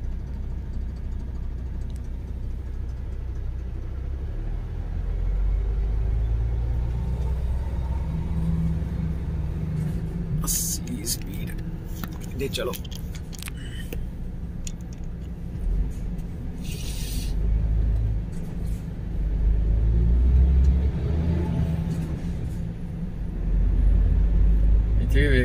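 Heavy road traffic in a Milan city jam, trucks idling and edging forward in a continuous low rumble with passing vehicle swells, while someone talks over it throughout.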